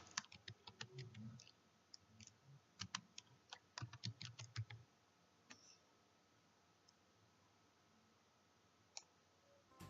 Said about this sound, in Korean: 타이핑합니다.